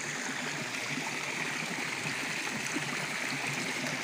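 Water pours steadily from a new village pipeline in rural Konkan, a continuous close rushing and gurgling flow with no talking.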